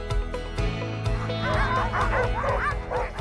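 Sled dogs bark and yip in quick overlapping bursts, loud and close, with higher whining cries joining partway through, in a snowy Rocky Mountain setting.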